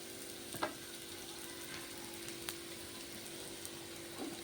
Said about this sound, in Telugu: ఉల్లిగడ్డ మంచిగా వేగింది